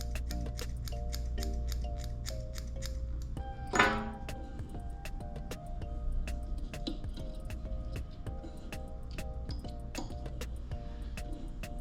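Scissors snip repeatedly, close and crisp, trimming material on a shrimp-style fly pattern at a fly-tying vise, a quick series of metallic clicks with one louder rustle partway through.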